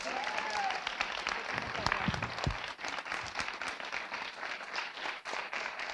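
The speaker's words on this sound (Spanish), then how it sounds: "Un gran aplauso." Audience applause at an image and film conference session, steady dense clapping from a crowd sustained throughout with a few louder claps standing out near the middle.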